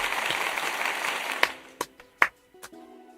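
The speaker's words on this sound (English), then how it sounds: "give yourself a round of applause" Applause on a call-in talk show, a brief wash of clapping that fades within about a second and a half, followed by a few scattered, separate claps and thuds.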